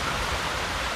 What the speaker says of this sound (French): Il y a le ruisseau.